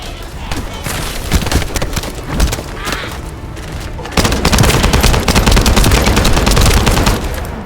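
Dense, rapid gunfire bursts in the video game The First Descendant crackle continuously, intensifying partway through into a sustained loud barrage with booming impacts.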